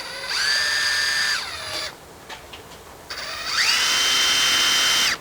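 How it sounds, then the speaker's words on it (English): A power drill with Mac drill bits boring out a rusted bolt on a Dodge Ram emergency brake, two sustained close whining runs that wind up to full speed and cut off, separated by a short pause with faint clicks. "So we switched over to the Mac drill bits."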